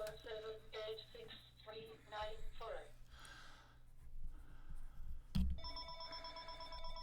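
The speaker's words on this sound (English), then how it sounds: "I'm getting a phone call." A telephone rings with an incoming call, giving several bursts of electronic ringing. Someone talks and breathes nearby, and then a different, brighter ringtone starts toward the end.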